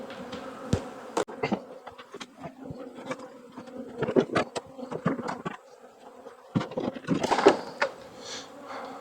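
Honey bees buzz around stacked hive boxes during honey extraction, several insects droning close by and drifting past, with intermittent knocks and handling noises from the beekeeping work.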